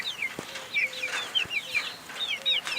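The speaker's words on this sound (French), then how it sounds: "on peut voir les 3 poulets GR soie barbu noir, bleu que j'ai acheté" Several bearded silkie chickens, black, blue and white, cluck and chirp softly in short repeated calls close by, a steady flurry of small hen sounds with no talking.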